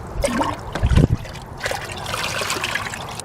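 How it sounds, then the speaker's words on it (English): Water trickles and splashes while a measuring cup is rinsed after molasses goes into a homemade compost tea batch, a short louder burst near the start giving way to a steady, close running dribble. "Rinse off the measuring cup here."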